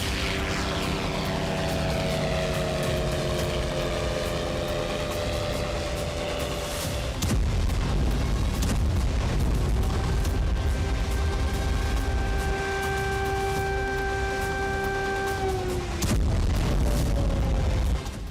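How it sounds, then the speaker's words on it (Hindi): Ukrainian attack drones strike Russian territory in the Kaluga region. A constant loud engine drone and deep rumbling fill the scene, with heavy booms hitting twice, far-off yet powerful. "यूक्रेनी फोर्स ने नेटो की मदद मिलते ही रूस की धरती पर सीरियल ड्रोन विस्फोट करना शुरू कर दिया।"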